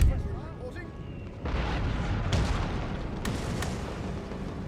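Cannon artillery fires in the strategy game Empire: Total War, a few heavy booms and sharp cracks over a dense, rumbling battle din, with a voice talking quietly at the start.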